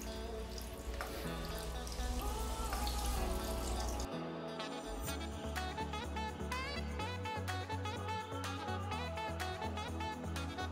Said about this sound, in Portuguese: ir devagarzinho colocando a água, que é para não causar ali turbulência